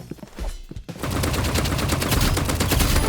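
A golden AK47 fires in the shooter game Rivals: after a brief quieter lead-in, sustained rapid automatic bursts ring out loud and close, with no talk.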